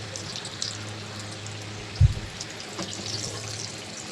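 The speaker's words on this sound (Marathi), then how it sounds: "लो फ्लेमवरती समोसे एकदम छान प्रकारे क्रिस्पी होईपर्यंत फ्राय करून घ्यायचे." Potato samosas deep-frying in oil over a low flame give a steady, soft, even sizzle, with one brief dull bump around the middle.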